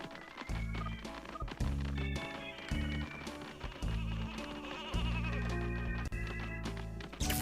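Sheep bleat repeatedly in the Nintendo 64-era game Space Station Silicon Valley. The bleats are mixed with bouncy in-game music and short effects, producing a busy, continuous soundtrack.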